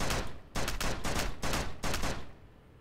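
Gunshots from a video game fire in five loud, closely spaced bursts, each a harsh rattling volley with short gaps between, fading out at the end.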